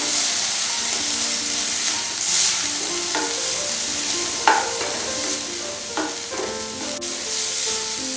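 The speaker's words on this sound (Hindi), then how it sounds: "टमाटर डालेंगे, टमाटर को 1 मिनट के लिए फ्राई कर लेंगे" Tomatoes frying with mixed vegetables in a pan for a mushroom soup, a steady close sizzle with a few scraping stirs and clinks and no talk.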